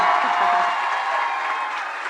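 An audience claps loudly and steadily for a band, a dense, even wash of applause that fades slightly toward the end.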